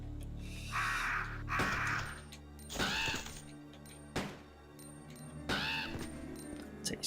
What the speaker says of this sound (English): Take these crows out.